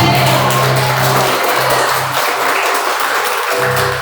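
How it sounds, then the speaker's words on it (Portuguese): A church congregation applauds during a sermon, a loud, sustained mass of clapping that fills the space and carries on without pause, with a low hum underneath. "você pode aplaudir a Deus porque você está do lado mais forte"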